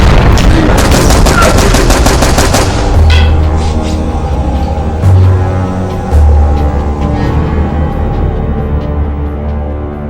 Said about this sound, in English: Those are gunshots, right?